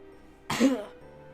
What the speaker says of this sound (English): hides a cough behind his glass